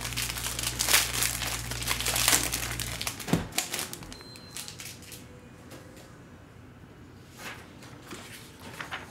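A 2014 Prizm football value cello pack is torn open and its plastic wrapper crinkles and crumples loudly up close for a few seconds, then quieter handling rustles follow.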